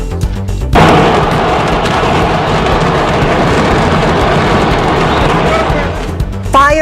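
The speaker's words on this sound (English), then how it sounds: "This is coming in of this massive explosion that happened at a fireworks market." A massive explosion at a fireworks market, heard as a sudden loud blast that becomes a sustained, roaring rumble of crackling bursts lasting several seconds and then abruptly cuts out.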